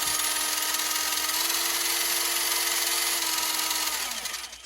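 Steady high-pitched electric motor whine from a WPL D22 RC truck (Tianjin Dafa / Daihatsu Hijet scale model) held at full throttle, loud and continuous with no talk, winding down quickly in the final half second.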